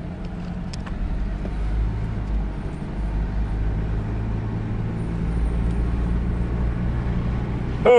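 A Mazda MPV car drives with its engine still warming up, a steady low rumble of engine and road noise heard from inside the cabin throughout, with a brief louder knock near the end.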